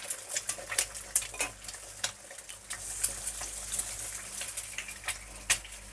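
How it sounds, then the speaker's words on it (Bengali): Two eggs frying in a pan: repeated sharp scrapes and clicks of a utensil against the pan in an uneven rhythm over a soft, faint sizzle, close by, with no talk. "দুখানা ডিম আমি ভালোভাবে এটা ভেজে নেব।"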